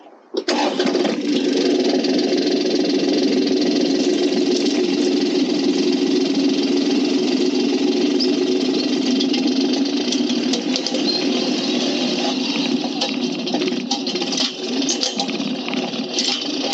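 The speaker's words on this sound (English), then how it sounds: "we're going to try the little old tractor out." A small old tractor engine runs steadily at close range, a continuous loud mechanical drone with little change, heard alone throughout.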